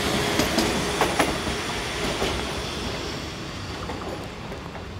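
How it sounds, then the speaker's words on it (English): Train SA132006 pulls out of a station with a continuous rolling rumble of wheels on rails, faint rhythmic clicks and light squeals over a steady mid-level roar, with no voices. "we see SA132006 retracing its wheels as it heads out of the station"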